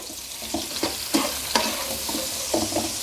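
Shrimp, mussels and squid stirred and tossed in a hot wok, with a steady sizzle and several sharp scraping clatters of a spatula, close and fairly loud.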